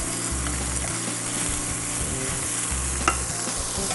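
Garlic being stir-fried with mixed vegetables including capsicum and carrot in a studio kitchen, a steady close sizzle with rhythmic stirring and scraping in the pan and one brief clink near the end.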